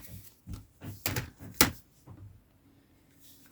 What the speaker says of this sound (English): I put this phone in my drawer